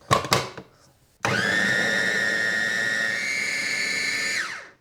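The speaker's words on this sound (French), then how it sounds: "je vais tout simplement mixer mon mélange" A kitchen blender purees tofu with olives, starting after a few clunks and taps, then a loud, steady high whir for about three seconds before winding down, with no talk.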